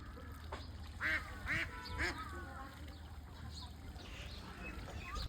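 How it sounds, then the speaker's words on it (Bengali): Large farm ducks quack at a small pond on a winter morning, several loud calls in quick succession, then quieter calls against faint outdoor background noise. "আর সেই বড় হাঁসগুলো আমাদের সেই ছোট্ট পাগারটায় আছে, সেই পুকুরটায় আছে।"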